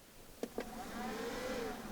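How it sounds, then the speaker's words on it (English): A car power inverter switching on inside a vehicle, powering a small $12 Walmart heater, gives two quick faint clicks followed by a soft, steady electronic whine over low background hum. "that was the inverter kind of powering on."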